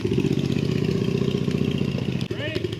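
A turbocharged drift trike engine with a newly installed EFI system roars at full throttle, a loud, steady, close buzzing drone that dips briefly near the end, with a voice talking over it.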